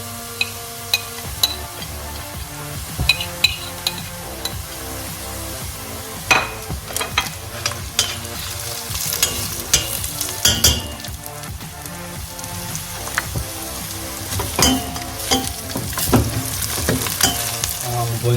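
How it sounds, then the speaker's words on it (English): Onions frying in a pan for a lamb curry, a loud continuous sizzle and crackle close by with scattered sharp pops and occasional stirring scrapes, no voices over it. "Now I'm gonna wait for the onion to turn a slight brown color."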